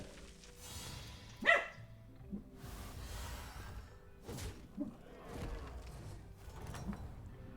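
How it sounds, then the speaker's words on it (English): A dog barks in the background in a few scattered, faint yelps and bursts, one sharper bark standing out among quieter thuds and household noise. "that is my dog going crazy in the background"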